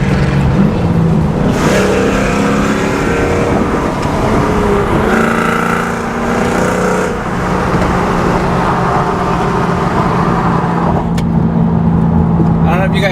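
A car engine drones steadily from inside the cabin on a drive through the hills, rising and falling as the driver downshifts, close and loud, with a person talking over it.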